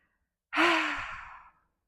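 One long, deep exhale during a yoga breathing exercise, close and clear, a breathy rush lasting about a second that fades out, with no talking.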